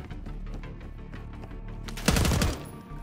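Rapid automatic gunfire from Call of Duty Black Ops 6 chatters through the whole stretch, then a louder, denser volley bursts in near the end and fades quickly.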